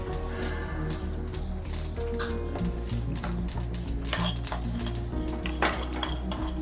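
Whole fenugreek, cumin, shahi jeera, cloves, cardamom and cinnamon dropped into hot oil in a pot, with clinking metal utensils, stirring and a light sizzle, no voices.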